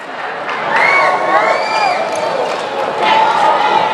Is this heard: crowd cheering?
yes